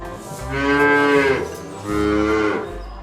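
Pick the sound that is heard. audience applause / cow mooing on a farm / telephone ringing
cow mooing on a farm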